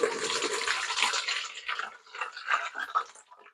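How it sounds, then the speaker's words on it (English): Tea water is poured through a strainer for soapmaking, a steady close splashing pour that thins into uneven trickles and drips toward the end. "I'm just taking the strainer, literally with our tea water that we have, and pouring in the amount that I normally do for our standard soaps"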